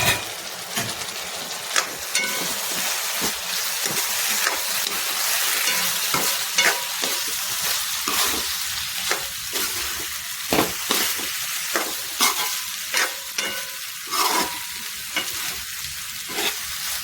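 Food frying in a pan while being stirred and mixed, a constant loud sizzle broken by repeated scraping strokes of the spoon at an uneven rhythm, with no voices.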